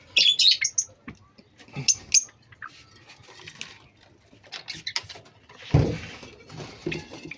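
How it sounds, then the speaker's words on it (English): Australian parrots give bursts of high chirps and squawks, loud near the start and then scattered and fainter, with rustling and tapping from the cage in between. "It's Australian parrots."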